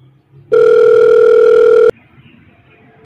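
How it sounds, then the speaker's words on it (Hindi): Telephone dial tone heard while calling a friend, a loud steady electronic tone holding for over a second, then cutting off abruptly into faint background noise with a brief click at the end. "यार मैं अब दोस्त को फ़ोन करता हूँ"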